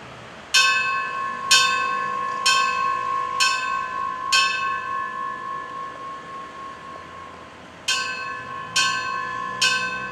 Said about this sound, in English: We toll the bells 5555.